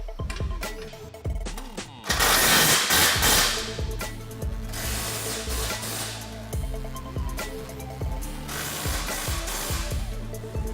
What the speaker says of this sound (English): Once you have them all started, you can go ahead and fully tighten the nuts.